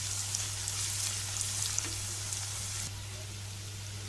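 Onions for beef sukka fry in a pan with a steady, soft crackling sizzle, heard close and continuous over a low hum.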